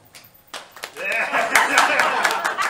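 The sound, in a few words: audience applause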